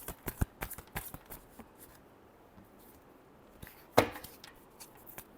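Tarot cards being shuffled by hand, a few crisp riffling bursts and soft card slaps with quiet pauses between them, close and fairly faint.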